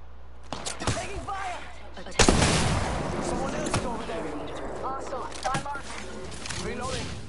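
Gunfire in the battle royale shooter Apex Legends: scattered sharp shots, one heavy close blast among them, popping irregularly under ongoing game sound effects while a player talks.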